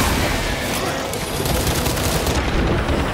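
Gunfire in Warhammer 40000 Space Marine 2 roars as a dense, loud, continuous barrage of shots and blasts, close up, with game noise mixed in throughout.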